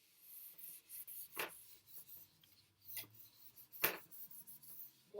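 Faint rubbing and scraping from erasing writing on a board during an economics lecture on firm costs, heard as a few short dry strokes with quiet gaps between them and one sharper scrape near the end.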